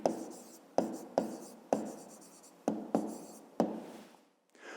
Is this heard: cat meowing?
no